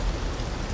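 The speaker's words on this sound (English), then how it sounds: "now we can hear the rain." Heavy rain in Detroit: Become Human pours steadily and loudly throughout, a dense, continuous hiss of drops with no voices over it.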